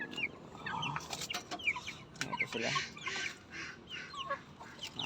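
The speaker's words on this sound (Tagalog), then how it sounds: "So ngayon magandang umaga mga manok at naglilipat tayo ng mga possible stag." A backyard flock of chickens and young stag roosters clucks steadily at close range, with overlapping calls and someone speaking briefly over them.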